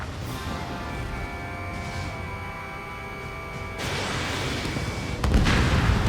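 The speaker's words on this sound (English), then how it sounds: "Enemy has a lock on you. Missile launched." A missile launches in the Ace Combat 7 flight combat video game, heard as a broad whooshing roar that swells partway through and ends in a louder boom over a steady engine drone and tonal music.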